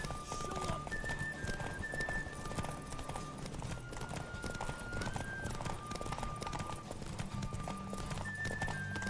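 Geralt's horse Roach gallops in The Witcher 3, with a steady, continuous clatter of hoofbeats running under game music throughout.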